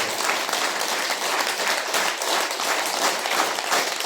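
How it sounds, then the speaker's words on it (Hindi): Audience at a Prabhu Kripa Dukh Nivaran Samagam gathering in Pune clapping in welcome, a dense, steady wash of applause from a large crowd, loud and continuous with no talk over it. "कृष्णा के स्वागत में ताली मारो"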